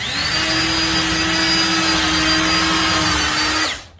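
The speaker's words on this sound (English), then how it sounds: "just drill a little hole straight down so that I can screw this in" A power drill whirs at a steady high pitch for about four seconds, close and loud, then winds down abruptly.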